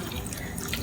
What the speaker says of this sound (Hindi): पानी शामिल करेंगे।